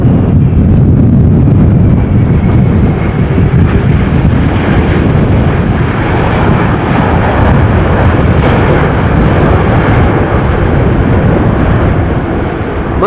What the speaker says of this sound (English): the wind fiercely pushing down my camera